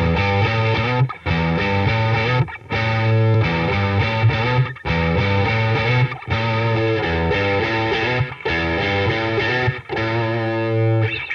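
Electric guitar played through a cabinet, captured via a Universal Audio OX Box in a studio setup; loud, sustained distorted chords and riffs in steady phrases with brief gaps between them, no talking.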